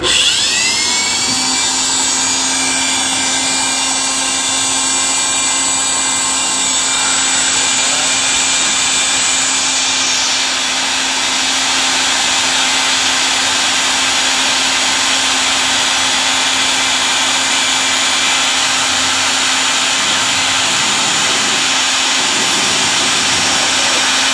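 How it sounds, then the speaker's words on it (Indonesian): Blower running on UPS power inside a Toyota Hilux 4x4, a loud, steady whirring roar with a constant hum that continues unchanged for the whole stretch. "Kita blower hidupin dulu."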